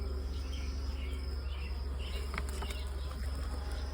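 Honey bees from a captured wild swarm buzz over frames in a hive, a steady low droning hum, close and continuous, with a few faint clicks and taps on top.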